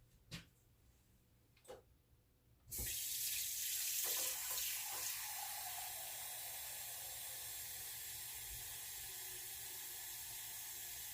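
Tap water runs steadily into a container while preserving cranberry sauce, starting abruptly after a few faint clicks and continuing as a loud, even hiss to the end.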